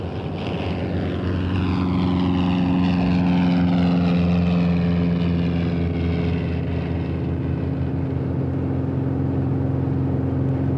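A propeller-driven search aircraft flies over a mountain area, its engine drone loud and steady with a pitch that slides downward as it passes overhead, alone with no talk.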